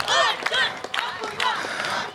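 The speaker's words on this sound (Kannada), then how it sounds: "ಅದಕ್ಕೆ ಎಲ್ಲರೂ ಒಂದು ಜೋರಾದ ಚಪ್ಪಾಳೆ" Audience applause at a Karnataka Rajyotsava celebration event, a dense burst of clapping mixed with cheers and shouting voices, loud at the start and continuing unevenly to the end.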